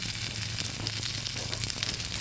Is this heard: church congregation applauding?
no